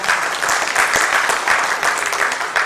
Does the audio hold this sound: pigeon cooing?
no